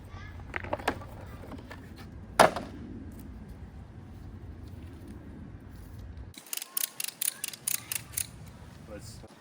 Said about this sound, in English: I'm gonna put a ratchet strap on and then we're ready to go